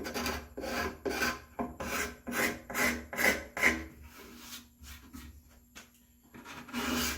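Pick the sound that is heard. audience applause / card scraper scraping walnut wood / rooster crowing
card scraper scraping walnut wood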